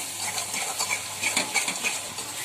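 Masala with turmeric and salt being sautéed in oil for stuffed brinjal, a steady close sizzle with scraping and stirring strokes from a spatula against the pan, no voices.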